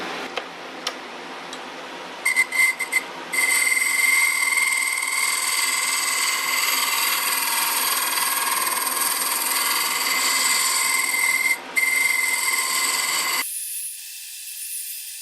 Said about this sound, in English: Scrape with the negative rake scraper again